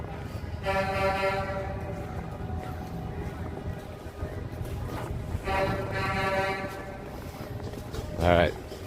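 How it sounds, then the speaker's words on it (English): Truck horns honk during the Freedom Convoy protest in Ottawa near Parliament Hill, with two sustained blasts and a short later toot over steady street noise and crowd chatter. "See some honking. See some trucks."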